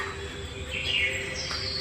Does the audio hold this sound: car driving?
no